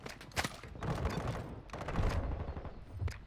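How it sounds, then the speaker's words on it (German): Heavy gunfire in a video game, dense rapid shots and bursts coming from several directions at once, loud and close, in near-continuous volleys with brief lulls and no talk. "Warum genau wird da jetzt auf mich geschossen von überall?"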